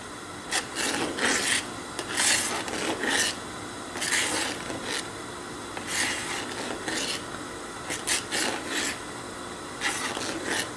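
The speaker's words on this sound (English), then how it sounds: "just keep stirring so the sauce won't burn" A spoon scrapes and rubs repeatedly against a pot while a thickening sauce for mac and cheese is stirred, making close, rhythmic rasping strokes with short pauses between them.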